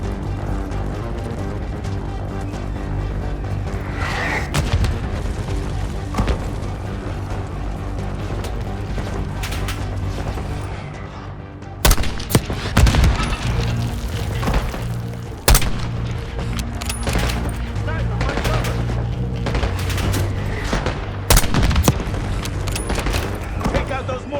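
Booming mortar blasts and bursts of gunfire in Call of Duty Black Ops 6 over a dense, continuous battle soundscape, with heavy impacts around the middle and shouted voices mixed in.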